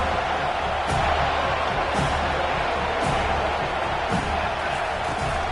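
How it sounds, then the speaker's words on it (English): A dense, steady roar from a stadium crowd on third down behind the defense, with faint thumps pulsing underneath and a commentator's voice mixed in. "Decibels rising as the crowd gets behind this defense on 3rd down."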